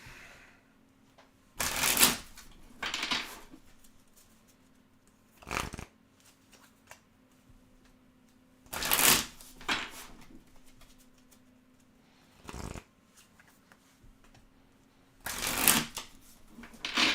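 A deck of playing cards is shuffled over and over, each burst a crisp riffling flutter separated by quiet pauses, close by with a faint steady hum underneath.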